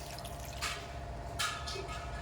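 Water goes into a mixer jar holding a green chilli and peanut chutney mixture, heard as two brief, soft splashing pours close by against a faint steady background hum.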